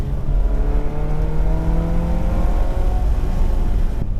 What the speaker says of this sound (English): Sometimes I really like to take the 355 out, drive it, enjoy it